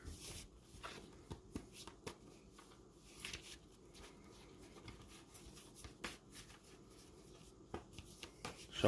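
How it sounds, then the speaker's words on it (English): A deck of tarot cards shuffled by hand, quick riffling and soft papery slaps repeating close up, with no talking. "Shuffle the deck here."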